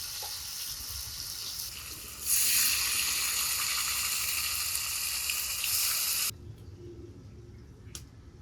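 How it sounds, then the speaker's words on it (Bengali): Chicken pieces frying in oil for biryani make a close, steady sizzle that swells into a loud hiss for several seconds, then cuts off abruptly to quieter kitchen background. "এখন বাকি তেলটুকুতে ওই মাংসগুলো ভাজি।"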